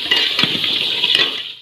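Potatoes dropped into frying masala in a home kitchen: a loud, steady sizzle with a few clinks of utensil against pan, fading out at the end.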